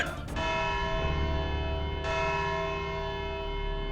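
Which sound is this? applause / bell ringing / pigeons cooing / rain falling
bell ringing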